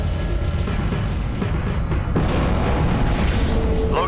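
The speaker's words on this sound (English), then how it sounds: "There's been some kind of explosion." Explosion in the space combat game Tachyon: The Fringe, a continuous loud, dense rumbling roar with no clear onset, a faint high electronic tone rising near the end.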